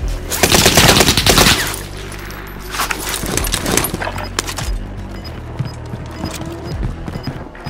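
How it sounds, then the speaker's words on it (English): Rapid automatic gunfire in a Call of Duty Warzone match on Fortune's Keep, loud bursts at the start and then scattered shots and impacts continuing through the game mix. "Rounds incoming. Contact."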